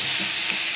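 Potatoes with turmeric, coriander and cumin powder frying in oil while being stirred, a brief close sizzle with soft scraping, no speech.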